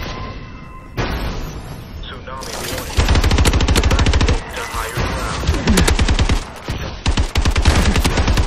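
Rapid automatic fire from an XMG machine gun in Call of Duty Advanced Warfare, loud dense bursts of repeated shots with short pauses, interleaved with other gunfire and booms in a hectic online gun game match.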